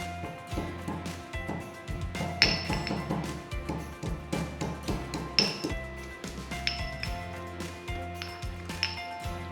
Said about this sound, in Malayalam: രണ്ടും കൂടെ ചതച്ച് ചേർക്കാം